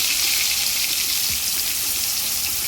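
Onion paste with green cardamom and cloves fries in hot oil in a pan, a steady, close hiss and sizzle that holds constant throughout.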